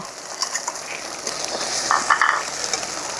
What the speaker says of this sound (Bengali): পেঁয়াজটা একটু ভালো করে ভেজে নিচ্ছি বাটাটা এবারে দিয়ে দিলাম আমরা নারকেল বাটা